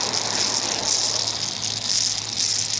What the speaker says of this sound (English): I'm cycling all the salt water out of the raw water pump and hoses, and I'm cleaning it out with fresh water